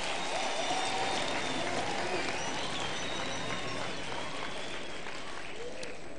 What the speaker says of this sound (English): let's give them another round of applause for their achievements